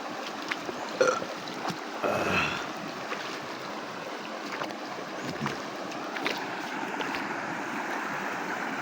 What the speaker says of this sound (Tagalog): Yan yung mga ilog dito guys, oh.